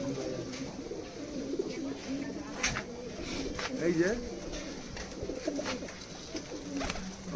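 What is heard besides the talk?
pigeons cooing in a loft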